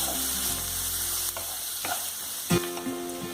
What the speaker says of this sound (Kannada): ಈರುಳ್ಳಿ ಸ್ವಲ್ಪ ನಸುಗೆಂಪು ಬಣ್ಣ ಬರೋವರೆಗೆ ಇದನ್ನು ಸಣ್ಣ ಉರಿಯಲ್ಲಿ 1-2 ನಿಮಿಷ ಹುರ್ಕೊಳ್ಬೇಕು